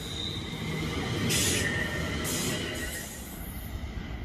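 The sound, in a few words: West Midlands Railway train passing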